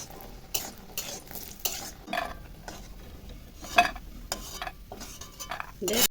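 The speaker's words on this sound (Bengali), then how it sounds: "তেল গরম হয়ে গেছে, বড়ি ছেড়ে দেবো।" Bori lentil dumplings dropped into hot oil in a pan, bursts of crackling sizzle alternating with clinks and scrapes of a utensil, close by and uneven.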